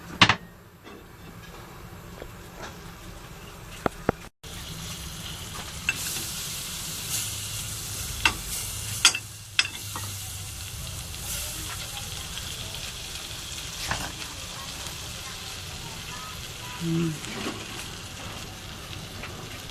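Mussels (tahong) sizzling in butter in a pan while being cooked as a topping for pasta, a steady soft hiss with occasional small pops and crackles, close by and moderately quiet.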